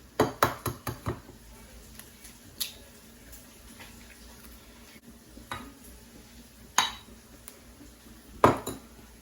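Eggs beaten into creamed butter and sugar for a carrot butter cake, heard as a scattering of sharp utensil clinks against a bowl, some close together, others spaced out, with quiet stretches between.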